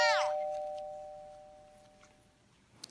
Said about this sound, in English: she heard the doorbell ring